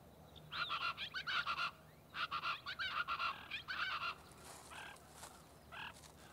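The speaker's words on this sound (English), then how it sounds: "the chachalaca, a noisy, gregarious bird common at the Santa Ana Wildlife Refuge" Plain chachalacas give harsh, raucous calls in repeated rapid bursts, several birds overlapping in a noisy chorus, followed by a few sparser calls over faint background hiss, in Texas brush country.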